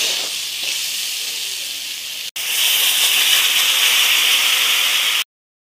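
Water poured into a pan of spiced potatoes frying for aloo dum gives a loud, steady hiss and sizzle, briefly interrupted once and then continuing strongly before cutting off abruptly.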